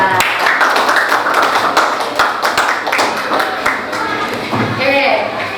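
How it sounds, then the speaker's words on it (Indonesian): A classroom of students claps for the third group after their presentation, close and uneven hand claps with scattered taps, and voices talking over the clapping at times. "Tepuk tangan untuk kelompok ketiga"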